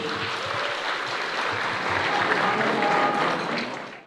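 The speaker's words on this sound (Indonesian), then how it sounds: "Tepuk tangan buat Metro TV" Applause for Metro TV at the National Governance Awards 2026 ceremony, a broad steady roar of many hands in a large hall, holding evenly before fading at the close.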